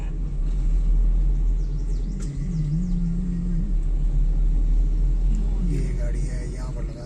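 A car rumbles at low speed as it is driven and maneuvered into a parking spot, a steady close engine drone under intermittent talk, with a brief revving rise midway.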